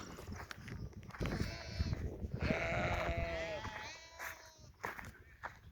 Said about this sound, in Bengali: অনেকগুলোই ভেড়া দেখতেছি এই জায়গায়